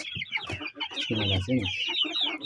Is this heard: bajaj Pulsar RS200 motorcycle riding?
no